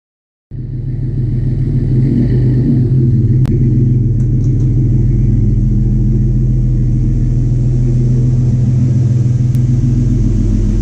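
A car engine starts up and settles into a steady, loud, close rumble as the car pulls into a garage, holding without a break to the end.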